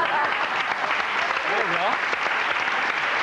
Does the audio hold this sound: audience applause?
yes